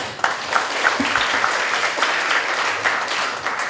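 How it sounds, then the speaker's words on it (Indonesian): An audience at a leadership forum in Bandung applauds steadily and continuously, a dense wash of many hands clapping that fills the room with no pauses. "Terima kasih Kang Emil, tepuk tangan"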